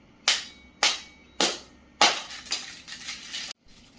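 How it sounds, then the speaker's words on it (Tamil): Four sharp, loud cracks land about half a second apart as a hollow Easter egg is broken open, followed by a scattered crunching and rustle of shell pieces before stopping abruptly. "இப்போ வாங்க முட்டையை நல்லா உடைக்கலாம்."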